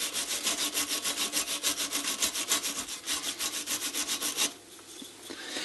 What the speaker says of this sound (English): this is just a small brass bristle brush, and if you take it and you brush in the direction horizontally of the grooves